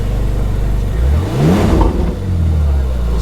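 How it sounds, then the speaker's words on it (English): A powerful exotic car engine revs up loudly at a car meet, climbing in pitch, then drops back and rises again in a second deep, throaty rev close by, door open. "let's go ahead and give it a couple revs"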